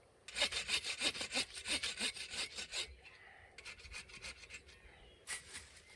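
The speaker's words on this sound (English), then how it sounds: "you can just saw right down through, and it's super quick, efficient way to get firewood." Hand saw cutting through wood for firewood outdoors in the wilderness, a fast rhythmic series of rasping back-and-forth strokes, close and clear, slowing and softening toward the end.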